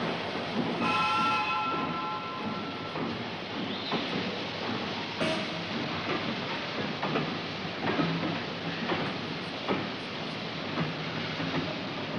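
A train rumbles along steadily with clattering rail noise, a brief horn-like tone sounding early on, continuous and fairly close.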